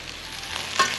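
Carne seca (dried beef) sautés in a pan with garlic and onion, giving a steady close sizzle and a brief stirring scrape near the end.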